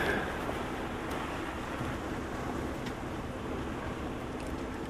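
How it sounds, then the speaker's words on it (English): Steady rain falls outdoors during a live safari drive, a soft, even hiss throughout with no voices. "A little bit of rain coming through now."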